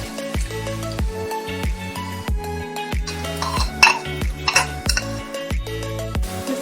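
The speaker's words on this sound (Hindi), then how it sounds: "थोड़ा सा मैंने कहा था प्याजों को सौते करना है" Chopped onions stirred in a pan for beef keema, a utensil scraping and clinking against the metal in a steady repeating rhythm, close and fairly loud with no talk.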